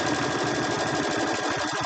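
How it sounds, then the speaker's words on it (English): A foot-pedal sewing machine running steadily at close range, a continuous fast mechanical whir and rattle with no pauses. "I'm standing up, sewing with one foot on my pedal"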